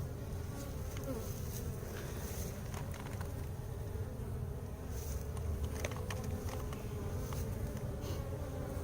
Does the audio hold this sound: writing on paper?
no